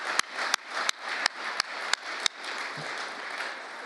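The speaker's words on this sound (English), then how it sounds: "That's worth clapping." Sparse applause at a Justice Department law-and-order speech, with a handful of sharp claps in a loose rhythm over steady crowd murmur, fading out after a couple of seconds.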